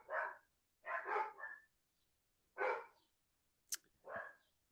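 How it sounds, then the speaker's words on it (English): Several dogs bark outdoors, a few faint, distant bursts of barking spread out with pauses between them, plus one brief sharp yip. "I don't know what these dogs are doing."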